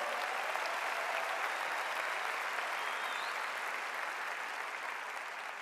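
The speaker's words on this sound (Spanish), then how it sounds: "Dale bien fuerte ese aplauso al Rey" Sustained applause from a church congregation fills the whole stretch, dense and steady, tapering slightly near the end.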